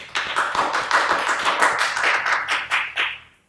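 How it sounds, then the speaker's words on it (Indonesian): A short burst of applause from a small group, close-up hand claps in a dense, steady patter that fades out at the end, with no talk over it. "Aplaus dulu lah buat Mas Yoyo."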